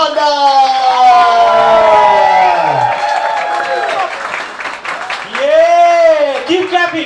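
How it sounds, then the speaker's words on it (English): A stand-up comedy crowd at Molly Malones claps and cheers for a comedian, loud, sustained applause with whoops and voices calling out over the clapping. "Keep clapping, come on, keep clapping, man!"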